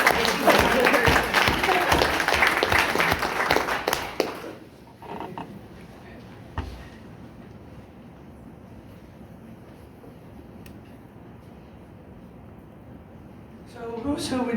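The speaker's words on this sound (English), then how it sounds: "round of applause for Heidi" A room of training attendees claps in a round of applause for Heidi for about four seconds, then it stops abruptly, leaving quiet room tone with faint stray sounds and a brief noise near the end.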